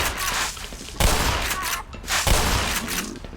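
Repeated heavy shotgun blasts ring out in the video game Black Mesa, about three loud booming shots spaced roughly a second apart, each followed by a rumbling tail, over continuous game noise.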